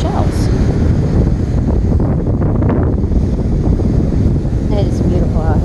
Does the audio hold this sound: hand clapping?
no